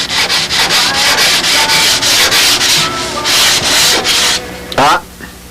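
A sanding block rubs back and forth over a wooden model airplane part on a table in a rapid, steady rhythm of close, loud rasping strokes, and a short louder scrape comes near the end.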